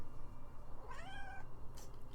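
A little brown cat gives a single rising, high-pitched meow lasting about half a second, close by over a steady low background hum.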